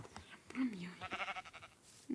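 A sheep bleats in the video game Minecraft, a short nasal bleat heard faintly amid quiet talk and soft game sounds.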